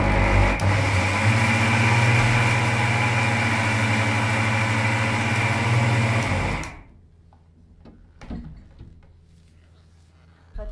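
A mixer grinder jar grinding homemade health mix powder (sathumaavu): a loud, steady motor whir with a strong hum runs for about six and a half seconds, then cuts off, leaving quiet clicks and knocks.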